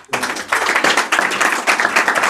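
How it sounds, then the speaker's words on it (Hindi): A church congregation at an Easter service claps together in rhythm, several loud, regular bursts of hands close by in quick succession. "तालियां बजाओ"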